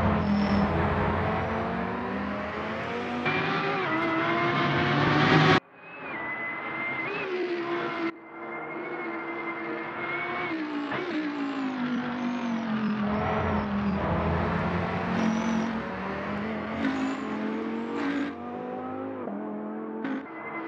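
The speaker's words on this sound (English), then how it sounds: "just enjoy the sound of the car" Lamborghini mod engine in the Assetto Corsa racing game, revving hard through repeated gear changes with a rising and falling engine tone, loud and continuous with brief cuts between shifts.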